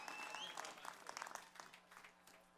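A graduation audience at a university spring commencement breaks into steady applause, dense clapping that swells early and gradually thins out over a few seconds, with crowd noise underneath.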